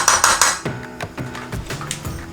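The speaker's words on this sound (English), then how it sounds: "get another pan and turn your stove on low heat" A pan is set on a stove top before low heat for cooking Korean bulgogi cheese quesadillas. It gives a loud opening clatter, then several ringing metallic knocks and clinks, close and without talk.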